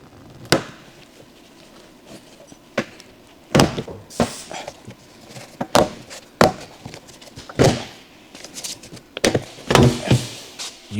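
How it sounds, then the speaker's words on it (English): Plastic trim clips pop loose as a lower door rocker panel is pried off a Ford Explorer with a trim removal tool, a series of sharp close snaps and thunks spaced unevenly, with no talking. "Firmly pull outward to remove the door lower rocker panel."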